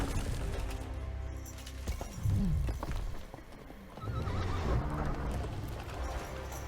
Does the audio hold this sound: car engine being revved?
no